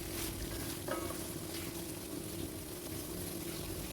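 Mushroom pasta sauce is stirred in a pan on the stove, giving a steady, even bubbling sizzle with a faint scrape of the utensil partway through, and nobody speaks.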